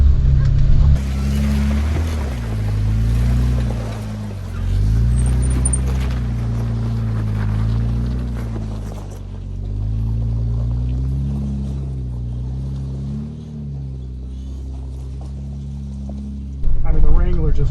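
Jeep Wrangler engine laboring up a rocky off-road trail to a T-33 jet crash site, a steady low rumble that swells and dips with the throttle, close and fairly loud, with people talking over it at times.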